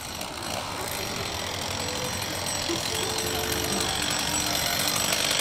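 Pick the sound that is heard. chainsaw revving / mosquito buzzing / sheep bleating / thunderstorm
chainsaw revving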